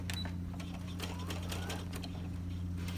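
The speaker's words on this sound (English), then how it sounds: "And then it sewed my button for me." A sewing machine stitches a buttonhole with a steady mechanical hum and rapid regular needle clatter, moderately quiet and continuous, with some light ticking over it.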